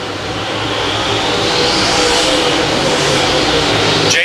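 Dirt track race car on a USMTS modified circuit, a loud, building engine roar that swells as it nears and sweeps past, sustained and broadband with no talk over it.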